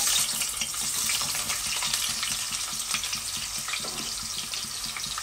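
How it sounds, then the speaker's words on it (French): Onion browns in a hot pot, giving off a loud, steady sizzle with faint scraping and stirring, and no one talks. "Et là, je roussis mon oignon pour le grain."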